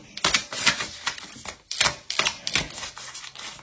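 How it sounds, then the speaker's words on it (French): Tarot cards being shuffled and drawn, with quick papery riffles and slaps arriving in close bursts of sharp clatter, with no talking. "je vais tirer une carte de Mademoiselle G que je n'ai pas fait"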